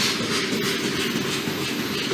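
Freight train cars rolling slowly past at a stretch of track in Post Falls, Idaho, a continuous close rumble and hiss with faint clickety-clack of wheels, no voices.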